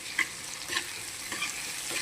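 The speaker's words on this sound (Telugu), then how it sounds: "చక్కగా ఇలా ఫ్రై చేయాలి." Onions frying in a pan with turmeric and ginger-garlic paste for a green chilli brinjal fry, a steady close sizzle broken by a few soft stirring scrapes, with no talk.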